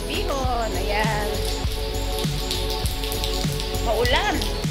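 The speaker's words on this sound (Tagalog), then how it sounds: "Paglabas ko, tingnan nyo, naulan!" Steady rain falls outdoors on a morning walk, a soft broadband hiss running through the whole stretch beneath a voice talking close by.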